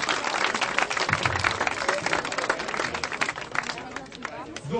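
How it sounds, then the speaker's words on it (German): Audience applause at a sports awards ceremony, with dense clapping and crowd noise filling the whole stretch, steady and fairly loud, with murmuring voices mixed in. "Ja, Applaus nochmal, vielen Dank an euch"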